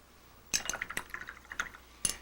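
Clean water dripping and trickling in small splashes, likely into a glass or dish, with a few distinct drip bursts scattered over about two seconds, close and fairly quiet, no voices.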